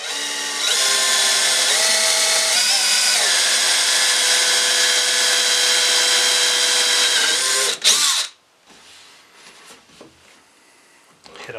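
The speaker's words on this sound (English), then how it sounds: "So now I'll go around and I will drill these holes" A power drill bores peg holes into a wooden storage cabinet, a loud high whine held for several seconds with slight pitch shifts, then stopping abruptly and leaving faint shop clatter.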